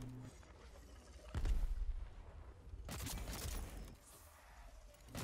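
Repeater gunfire from a Dauntless hunt against Dreadfrost Boreus comes as a couple of loud, sharp bursts of shots spaced a second or so apart, with a quieter rumble between them.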